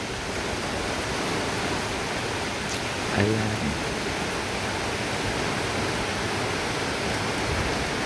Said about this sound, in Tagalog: So ganun kalakas ang hangin guys.